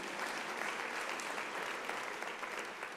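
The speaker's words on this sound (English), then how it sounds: "I think we need a round of applause" Distant, faint applause from the audience at a university's academic-year opening ceremony, a constant, even patter of many hands that carries on unbroken with no speech on top.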